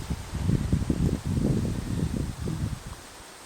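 A breeze stirs the leaves of trees outdoors in a yard with felled trees, making a soft, steady rustle with gentle gusts. No one talks.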